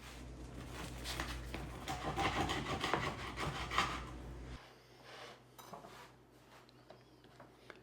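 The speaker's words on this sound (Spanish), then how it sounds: "Voy a cortar una rodaja frente a cámara." A knife saws through a loaf of artisan rustic bread with rough, rasping back-and-forth strokes for a few seconds, close up, then the sound drops away to quiet handling.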